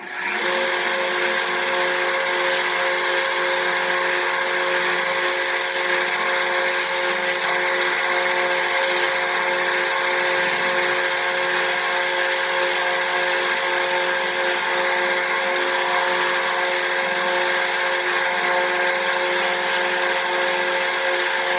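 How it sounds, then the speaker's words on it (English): Soda cans joined by a laser weld are ground smooth with a power tool, giving a steady, loud, continuous whine with bright high-pitched grinding hiss that runs unbroken throughout, with no talking. "Now I'm gonna grind it."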